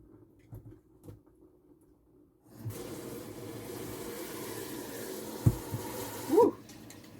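Water runs steadily from a garden hose in a soft, continuous hiss that starts partway through and lasts several seconds, ending with a brief clunk.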